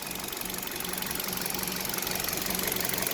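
Engine of a KIA Rio idling with an abnormal knocking, a dense, steady mechanical hum with fast regular ticking running through it, heard close up and alone.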